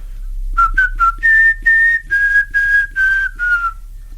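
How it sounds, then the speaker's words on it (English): Someone whistles the opening bars of the Some Mothers Do Have 'Em theme tune, a clear, close, solo melody of short notes leading into longer held tones, loud and alone. "I used to whistle the first part of the Some Mothers Do Have 'Em theme"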